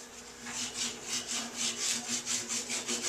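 Coarse 36 grit sandpaper is rubbed over a Suzuki motorcycle fuel tank during dent repair, in quick back-and-forth strokes with a rhythmic raspy scratch, close and moderately loud.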